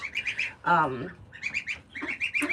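Farm ducks, including Muscovy ducks, and guineas in a barnyard give out a close run of repeated squawks and quacks in quick bursts, with a voice talking briefly partway through.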